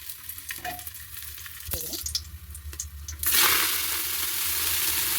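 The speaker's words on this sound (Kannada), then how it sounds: "ಒಂದು ನಾಲ್ಕು ಎಷ್ಟು ಬೆಳ್ಳುಳ್ಳಿನ ಒಗ್ಗರಣೆಗೆ ಹಾಕ್ತಾಯಿದ್ದೀನಿ" Garlic cloves dropped into a drop of hot oil for tempering sambar, giving a soft crackle that swells into a loud, steady sizzle after a few seconds of quieter stirring and clatter.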